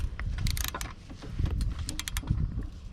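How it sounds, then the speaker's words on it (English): Ratchet clicking while tightening the bolts on an EGR blanking plate on a 2.0 HDI/TDCi diesel engine, a run of quick close mechanical clicks and metal taps in short bursts, with no talk. "I'm just gonna use a ratchet properly and then just do it up"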